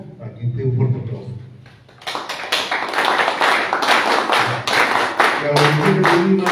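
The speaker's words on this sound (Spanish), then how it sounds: "a quien pido un fuerte aplauso" Audience applause at a political party meeting of APRA in Lima, a dense burst of many hands clapping that starts abruptly and holds steady and loud after a stretch of quieter room sound.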